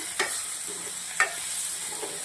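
Chilli powder, turmeric and other spices are mixed in a pan for a yogurt taro-root curry. A steady, fairly quiet sizzle is broken by two brief utensil taps.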